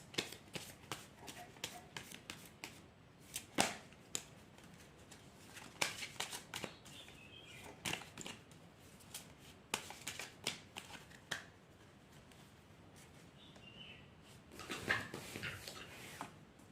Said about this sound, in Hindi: तो मैं कुछ और कार्ड निकालती हूँ आपके लिए।